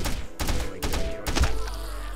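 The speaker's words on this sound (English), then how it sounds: "Oh no, more of those little leech monster bugs. Get away, stop floating towards me." Small leech monster bugs buzz and whine in Retrovirus, a free-roam turret shooter, with several loud rhythmic pulses of insect-like droning close by and a steady hum underneath.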